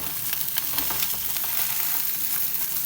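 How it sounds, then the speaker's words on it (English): A thin piece of fish fries in a hot pan with a dense, continuous sizzle and crackle, close and fairly loud, with a few brief scraping stirs as it is moved around; no voices. "This piece of fish is not that thick, so it will cook faster."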